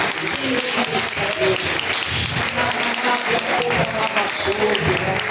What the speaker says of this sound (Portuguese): Palmas, louva